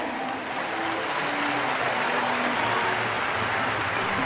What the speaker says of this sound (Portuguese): Senhoras e senhores, aplausos a todos os indicados de música!